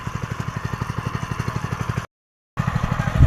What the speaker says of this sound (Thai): กับรถไถมินิเสียกรุงของเรานะครับ